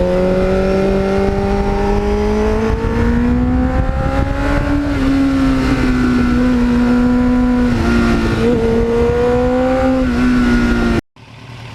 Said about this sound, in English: the sound of the Muzzy, it's quiet at idle, and when you get on it, it turns into a raspy,